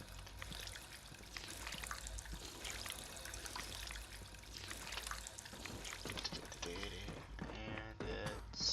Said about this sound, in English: I gotta go drink at that water fountain now